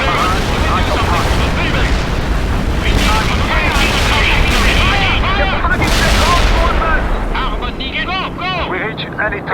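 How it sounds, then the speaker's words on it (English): An artillery barrage fires in World in Conflict as heavy, continuous booming and blasts with a dense low rumble, while voices talk over the battle noise. "We're ready with the artillery."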